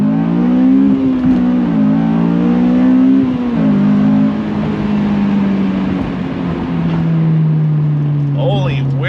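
A Honda S2000 with its top down pulls hard under acceleration, engine note climbing steadily and loud with gear changes and wind rush, while a voice speaks over it.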